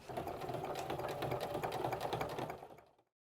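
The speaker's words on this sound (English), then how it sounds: "I'm going to top stitch along here." A sewing machine top stitches along a crossbody bag seam in one steady, fast run of rapid needle clatter, close and clear, then stops abruptly.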